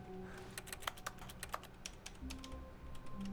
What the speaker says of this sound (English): Maybe try typing in your name.